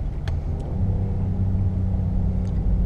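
A 2017 Acura MDX V6 engine growls as it accelerates along a straightaway, a steady close low rumble from inside the cabin, with a couple of faint clicks over it.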